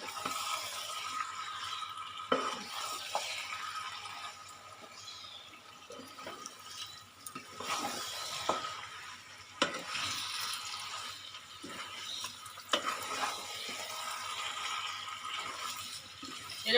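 Pieces of mutton are stir-fried in a pan for a Bengali curry with potatoes, making a soft, uneven sizzle and wet shuffling broken by occasional scrapes and knocks of the spatula. There is no talking.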